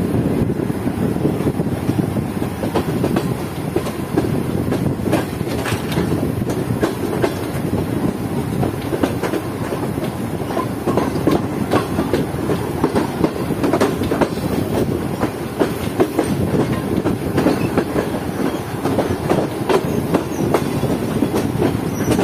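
The Karakoram Express rumbles past on a station loop line in Pakistan, a loud continuous roar of wheels on rails with rhythmic clickety-clack and occasional squeal sustained throughout.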